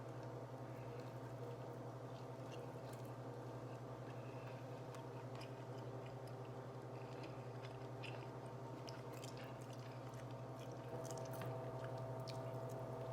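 Close, quiet chewing on a bite of smoked spare ribs cooked on a Pit Boss Austin XL, with soft wet, squishy bites and small clicks over a constant low hum, no talking.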